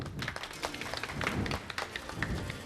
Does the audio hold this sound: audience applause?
yes